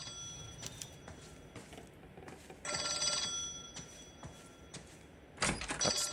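Old-fashioned telephone bell ringing in Jack Kelso's apartment in L.A. Noire, two loud bursts of ringing over a low background hum with faint clicks between them.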